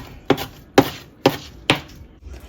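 Four evenly spaced, crisp knife chops through vegetables onto a cutting board, each a sharp close thud with a short tail, with no voices.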